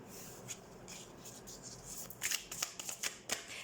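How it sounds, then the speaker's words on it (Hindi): Tarot cards are shuffled close up, soft riffling and rubbing strokes that build into several sharper, quick bursts toward the end. "तो सबसे पहले हम कार्ड शफल कर लेते हैं एरीज।"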